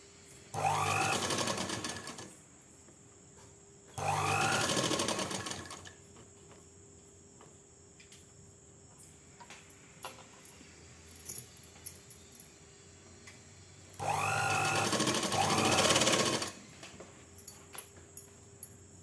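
A tailoring sewing machine stitches a sudithar pant in three separate bursts of steady whirring, each lasting about two seconds, with quiet clicks and handling noises in the pauses between runs.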